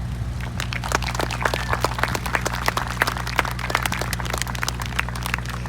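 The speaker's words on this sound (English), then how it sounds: "please give another round of applause for" Scattered applause at a political rally in Billings, Montana: sparse, distinct hand claps from a modest crowd, irregular and crisp, over a low steady hum for several seconds.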